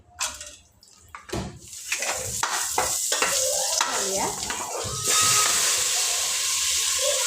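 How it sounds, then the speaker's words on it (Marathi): Cumin seeds fry in hot oil in a pan, with a few scrapes and clatters of stirring at first, then a steady hissing sizzle that grows louder and fuller near the end, close by with no talking. "फ्राय करायचं आम्हाला आता ह्याच्यात जिरा घातली"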